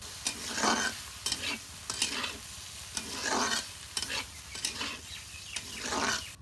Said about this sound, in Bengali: আস্তে আস্তে ভাজা হই।